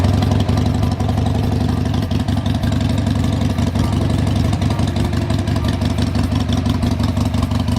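A motorcycle engine idles loudly nearby with a steady, fast, even throb that carries on without a break and no talking over it.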